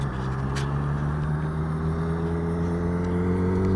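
A 2013 Suzuki GSX-R 750 sport bike holds a steady engine drone through a turn, its tone rising slightly as the throttle is kept on, with a constant close rumble and no voices.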